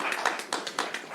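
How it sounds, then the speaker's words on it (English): A handful of distinct hand claps at a government press event announcing a vaccine lottery winner, sparse and uneven rather than a full ovation, fairly close. "how about a round of applause for a good guy?"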